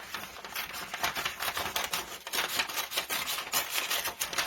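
Scissors cut all the way around a tie-back paper envelope, a steady run of close, crisp snipping and rustling paper for junk journal cover making.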